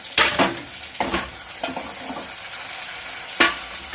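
Chopped tomato stir-fried in a pan, with several sharp scraping stirs and clacks of a spatula against metal over a low sizzle, close and intermittent.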